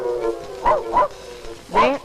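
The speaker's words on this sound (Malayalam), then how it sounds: "പട്ടി കിടന്ന് ബഹളം വെക്കണ കണ്ട" A dog barks three times in sharp, yelping bursts, close by, with a voice faintly heard at the start.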